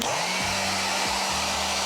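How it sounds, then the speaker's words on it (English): A hair dryer blows steadily at close range, a constant airy whoosh with a low motor hum and no talking. "And I'm gonna actually hit it with the dryer."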